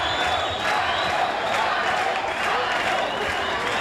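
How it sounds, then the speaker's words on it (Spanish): A capital-city crowd at a boxing event cheers and applauds the former Nicaraguan champion Byron 'El Gallito Rojo', a steady, loud roar of clapping and shouting that fills the whole stretch, with a voice talking over it. "La gente de la capital aplaudiendo a Byron, el Gallito Roja"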